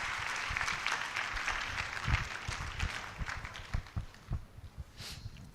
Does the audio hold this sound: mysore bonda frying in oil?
no